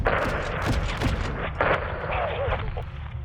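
Modern Warfare 2 (2022) combat from a convoy engagement, with heavy rolling gunfire and booming artillery-like blasts layered over each other, loud and continuous, with game chatter mixed underneath.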